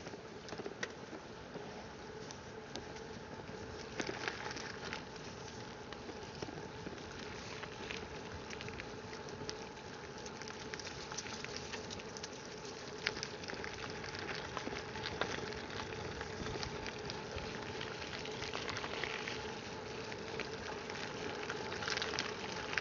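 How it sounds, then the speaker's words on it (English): Continuous crunchy rolling texture of bike tires over a gravel trail, steady and close, with no voices, lasting the whole stretch. "you get that gravel ASMR riding here, just listening to this sound"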